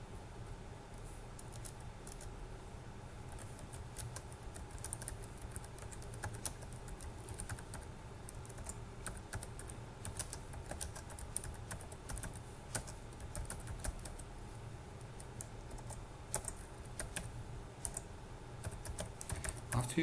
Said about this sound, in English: After you're finished with your typing,